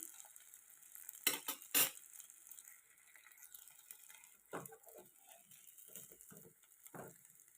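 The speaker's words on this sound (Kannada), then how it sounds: "ಫ್ರೈ ಆಗಬೇಕು ಇವು ಕಂಪ್ಲೀಟಾಗಿ ಗೋಲ್ಡನ್ ಕಲರ್ ಬರೋ ತನಕ ಫ್ರೈ ಮಾಡಬೇಕು" Snacks fry in hot oil to a golden colour: a faint, continuous sizzle broken by scattered clinks and scrapes of a utensil against the pan.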